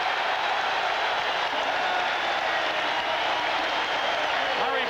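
A packed Boston Garden crowd at the 1987 NBA Finals, Lakers against Celtics, roars and cheers in a steady, loud, unbroken wall of noise throughout.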